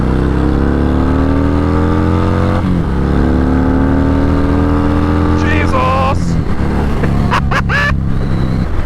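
A 2021 Harley-Davidson Fat Bob motorcycle pulls hard through the gears, its loud V-twin rising in pitch, dropping at each shift and climbing again, with wind rush from the rider's position.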